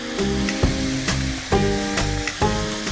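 Vegetables sautéing in a hot pan with turmeric, chili and coriander powder, a steady sizzle broken by several rhythmic scraping stirs of a spoon against the pan, close and clear.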